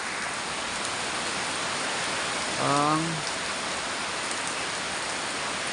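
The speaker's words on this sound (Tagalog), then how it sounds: "Pangatlong bisis na itong ulan sa araw na ito." Soft, steady hiss of rain falling over rice paddies, with a brief murmured voice in the middle.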